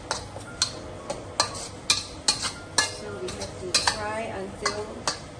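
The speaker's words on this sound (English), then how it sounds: "Make sure you fry the paste around 5 to 6 minutes." Sambal paste with onions, garlic and chili is fried and stirred in a pan: a steady low sizzle under repeated sharp clinks and scrapes of a utensil against the pan, at an irregular, fairly quick pace.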